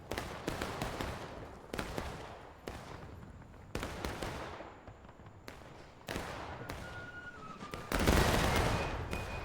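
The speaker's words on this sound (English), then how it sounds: "Nice volley from Jackson's division" Musket volleys ring out in an American Civil War battle video game: repeated loud, crackling rolling volleys, several in sequence, each dying away before the next, with no speech.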